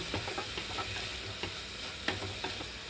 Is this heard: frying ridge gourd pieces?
yes